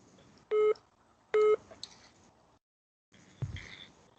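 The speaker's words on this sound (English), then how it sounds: "That's my phone telling me to take a few breaths." A phone timer sounds two short, clear electronic beeps a second apart, followed by quiet room noise and a soft knock.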